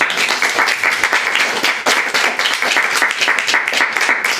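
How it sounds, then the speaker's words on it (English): Dense applause from a poetry reading audience, steady and sustained throughout, many hands clapping at once without pause. "please, one more round of applause for our wonderful poets reading."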